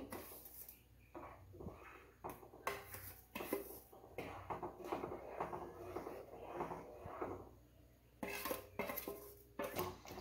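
Roasted semolina being stirred into a pan while making sheera cake, a spoon scraping and clinking against metal in uneven bursts with short pauses, quiet and close, no voices.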